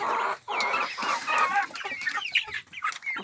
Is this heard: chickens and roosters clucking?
yes